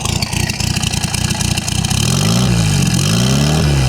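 A boosted MGB engine revs hard, with rapid pulsing at first that rises into a loud, steady engine roar. The pitch climbs and wavers through repeated revs, and no voice is heard over it.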